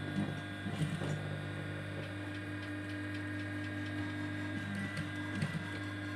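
A sewing machine stitching a hidden zipper into striped fabric hums steadily with a soft mechanical whir and faint ticking, quiet and close, with no talk.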